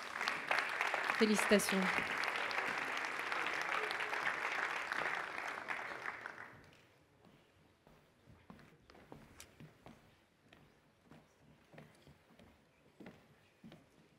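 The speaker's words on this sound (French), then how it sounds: "On peut les applaudir encore une fois." Prize winners standing on stage at an official awards session draw loud, sustained audience applause, which dies out midway. It gives way to scattered footsteps and small knocks, with a brief spoken word.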